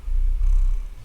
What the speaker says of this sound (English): Oh, purr noises.